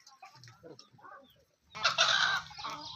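Free-range desi hens at a poultry farm where they lay eggs, a mix of clucks and fowl calls. The sounds are soft and scattered at first, then a louder, busier burst of calls near the end.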